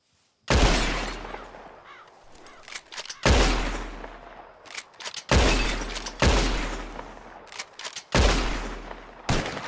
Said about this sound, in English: Whoever shoots more of the bottles wins.